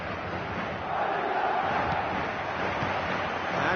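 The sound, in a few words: stadium crowd in football video game on PS4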